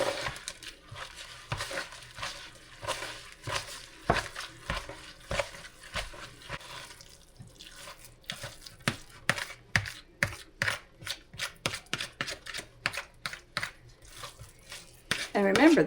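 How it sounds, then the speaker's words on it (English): Ground rump roast and milk for a meatloaf being mixed by hand in a bowl, a long run of wet squelching and slapping knocks in an uneven rhythm, close and fairly loud. "So I'm just going to mix all this in real good."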